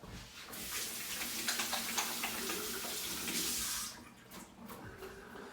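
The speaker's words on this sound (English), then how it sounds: "Give my hands a rinse here" Water runs from a tap as hands are rinsed underneath, a steady hiss with small splashing changes that cuts off near the end, followed by quiet room sound.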